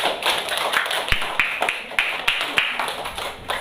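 A classroom of fourth-grade pupils claps together, sharp taps and claps at an uneven rhythm, fairly close and loud, with some faint voices mixed in.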